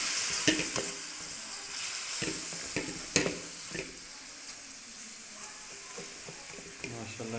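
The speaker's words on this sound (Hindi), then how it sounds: "जो सूप था यखनी का ये डाल देंगे" Yakhni stock poured into a hot pot of Chinese-style vegetable pulao, a steady loud sizzle with clanks and stirring scrapes of a spoon against the pot, fading to a softer simmering hiss.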